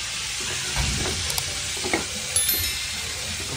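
Buttered bangus (milkfish) fries steadily in a pan with butter, oyster sauce and adobo seasoning, giving a continuous close hiss broken by a few scraping stir strokes; no one talks.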